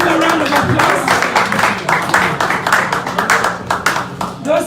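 Scattered clapping from guests at a political fundraising dinner, a handful of hands beating in uneven bursts with voices talking over them, close and loud.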